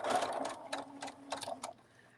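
Sewing machine stitching a fabric cuddle bunny: several short bursts of rapid mechanical needle chatter separated by brief pauses, close and fairly quiet, ending in a near-silent moment.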